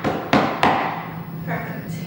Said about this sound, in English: I'm going to use a mallet to make sure that